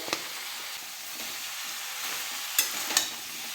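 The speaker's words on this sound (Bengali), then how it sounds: "সব কিছু সবজি ভালো করে কষিয়ে নিয়েছি" Mixed vegetables with turmeric and tomatoes sauté in a pan, giving a steady soft sizzle with a few sharp clicks of stirring near the end.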